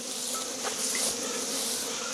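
Bees buzz steadily around a bucket feeder filled with sugar syrup, set out during a nectar dearth; a dense, continuous hum of many insects close by with no talk.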